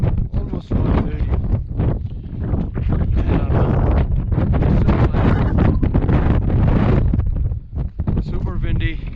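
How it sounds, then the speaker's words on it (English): Strong wind roars in gusts across a mountain summit during a blizzard on a March hike, buffeting loudly and continuously, briefly easing near the end. "Super windy."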